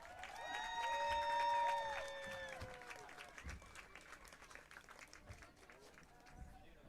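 Stadium crowd at a high school varsity football game, Union versus South Side, applauding the 1973 Tri-County Class A champion Union Scotties; steady distant clapping and cheering mixed with whistle-like tones and echoing public-address sound, fading slightly after the first seconds.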